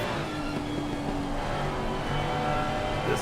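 Ferrari and Lamborghini GT3 race cars at a rainy Nürburgring in Assetto Corsa Competizione, their engines droning and revving steadily at close range, with no talk.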